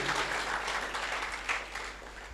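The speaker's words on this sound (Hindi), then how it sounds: "मैं चाहूँगा जोरदार तालियां" A crowd applauds at a talent show audition in Kullu. The dense, steady clapping is close and fairly loud throughout, and no voices rise above it.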